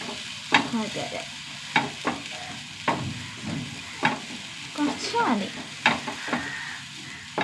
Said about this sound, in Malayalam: നമുക്ക് ഉണക്കച്ചെമ്മീൻ ആദ്യം ഒന്ന് വറുത്തെടുക്കാം.